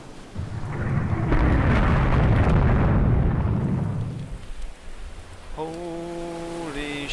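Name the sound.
torpedo explosion hitting a ship in video game Rule the Waves 2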